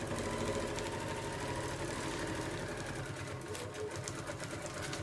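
A sewing machine stitches a thermal lunch bag through a half presser foot, running as a loud, fast, continuous mechanical chatter with steady needle rhythm across the whole stretch and no talking.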